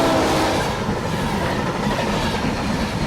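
A train in a World War One video game rumbles and clatters along the rails, a steady, loud, continuous roar with faint wheel clicks and no voices.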